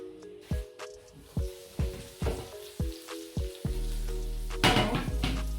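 Sweet potatoes and sausages stir-fried in a pan, a close sizzle punctuated by regular thumps and scrapes of stirring, a low steady hum under it, then a brief louder clatter near the end.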